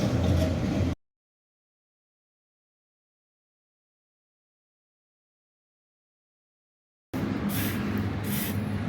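Spray paint hisses onto a steel platform built to hold a sliding gate motor, in two loud, steady bursts close by, a brief one at the start and a longer one near the end, with silence between.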